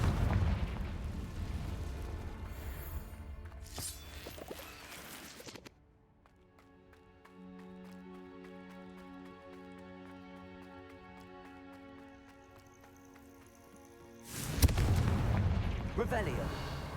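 Confringo fire spells explode in Hogwarts Legacy, with heavy rumbling blasts filling the opening seconds and returning loudly near the end, separated by a quieter stretch of sustained tonal game music.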